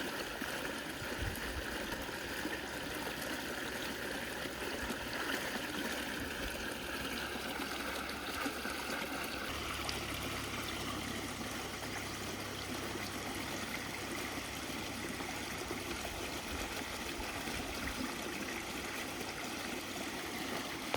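Water pouring steadily through a recirculating garden waterfall system, a continuous close rushing and splashing wash that stays even and unbroken with no talking.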